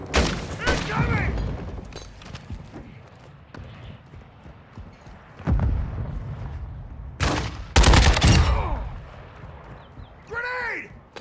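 Gunfire and explosions in a shooter video game: sharp loud shots and booming blasts come in scattered bursts, with a heavy rapid flurry late in the stretch over a rumbling battle backdrop.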